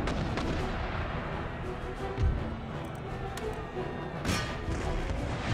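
Mortar artillery fire in Empire Total War sounds as a dense, rumbling barrage of gunfire, with two heavier booms standing out from the continuous battle din.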